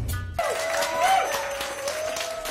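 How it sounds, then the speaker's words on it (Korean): Applause after a fashion show for a homegrown Korean denim brand, with staff clapping for the designer; a dense, steady wash of clapping runs throughout, alone and without speech. "쇼를 만든 최고의 스태프들이 그녀에게 뜨거운 박수를 보냅니다"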